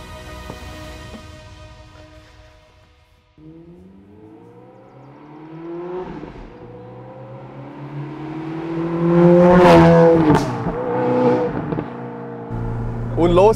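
A Ferrari 430 Spider with flap exhaust starts idle and low, then climbs through rising revs with gear changes, the engine growing louder toward a strong pull near the end.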